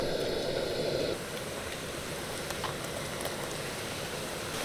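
Madan bhaja, also called gatta bhaja, fries in hot oil over low to medium heat, making a steady, close hiss and sizzle that is louder at first and then settles to an even bubbling.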